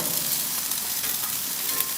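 Onions sizzle and crackle steadily on a Char-Broil TRU-Infrared grill fired with wood pellets, a close, continuous frying hiss with no voices.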